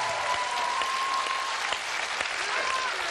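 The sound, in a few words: TV show audience applause for Azis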